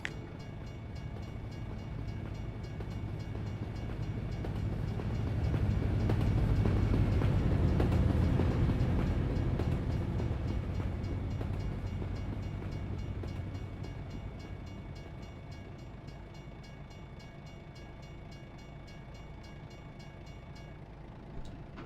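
A train rumbles past in American Truck Simulator, swelling to a loud peak midway and then fading, a long continuous roll of wheels with no talking.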